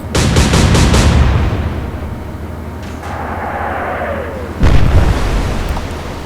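Warship main guns fire in the naval combat game Atlantic Fleet, opening with a rapid loud volley of booms, then a rushing lull, and a second heavy blast of shell impacts near the end.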